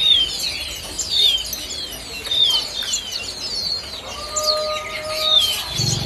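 Several oriental magpie-robins sing bright, whistled phrases and chirps, moderately close, in a busy indoor bird market with a faint steady background hum.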